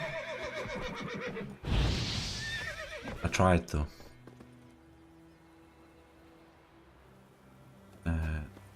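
A horse neighs loudly and hooves clop in short bursts in the video game The Witcher 3, with a person speaking briefly; another whinny comes near the end.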